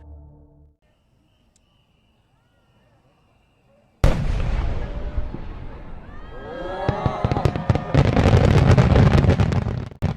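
Fireworks burst in a dense, loud barrage after a quiet start, with sharp cracks, crackling pops and whistling trails rising and falling over a roaring rumble and faint crowd noise.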